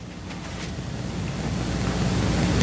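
Flowing water streams from water source blocks in a Minecraft terracotta quarry: a steady rushing, washing flow that swells gradually louder, close and continuous with no talk.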